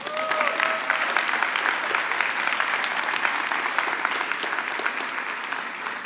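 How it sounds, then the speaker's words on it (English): Audience at a fall staff assembly applauds Vanderbilt staff, with steady, dense clapping from a large crowd filling the whole stretch at an even level. "round of applause, this is the unstoppable force of Vanderbilt staff"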